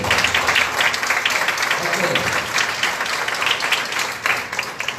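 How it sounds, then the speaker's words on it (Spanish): Steady applause from a church congregation fills the space, a dense wash of clapping with voices murmuring underneath. "Den un aplauso por la cosa."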